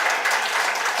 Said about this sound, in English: A round of applause as he goes back